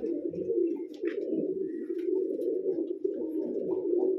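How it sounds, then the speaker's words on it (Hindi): A pigeon coos steadily and close, a continuous low throaty rolling call that runs unbroken throughout, with faint rustles above it. "देखा आपने कबूतर मेरा"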